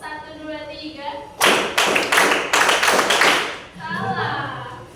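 A classroom of students clapping a counted rhythm pattern in a religious studies lesson, a burst of several sharp, close claps in quick sequence, framed by a teacher's voice talking before and after.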